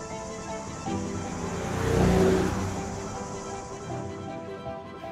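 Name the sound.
car driving past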